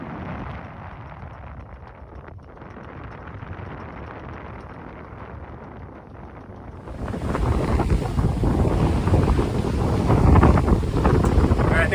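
A small sailboat rides through wind and waves on the open Atlantic. Gusts buffet the microphone in a constant roar, and the rush of water swells louder and rougher partway through.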